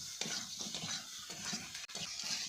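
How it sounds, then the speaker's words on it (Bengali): Chicken pieces and potatoes fry in a pan while being stirred, soft steady sizzle under repeated scraping strokes and light clinks of a spoon against metal, close and fairly quiet, with no speech. "এই মাংসটার সঙ্গে দুটো আলুও দিচ্ছি"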